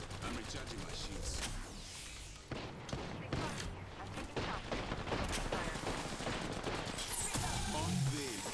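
Rapid gunfire bursts from Apex Legends on PC, dense overlapping shots and mechanical clatter running nearly continuously and loudly, with a player talking over the action.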